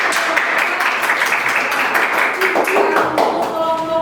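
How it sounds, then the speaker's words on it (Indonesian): A classroom group claps for a student group that has just finished presenting, a short burst of scattered hand claps lasting a few seconds at moderate volume. "Tepuk tangan."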